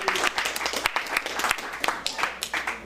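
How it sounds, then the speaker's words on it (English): Scattered audience applause in a room, a few seconds of irregular, fairly light clapping with uneven bursts rather than a full ovation. "Please give the Green Door a big round of applause."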